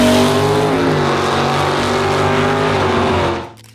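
A 1970 Plymouth Duster 340 muscle car roars loudly and steadily at high revs, close by, before the engine sound cuts off abruptly near the end.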